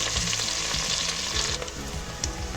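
Two onions frying in a pan for mushroom biryani, cooked toward golden brown: a steady, loud, close sizzle with scraping stirring sounds running through it and no voices.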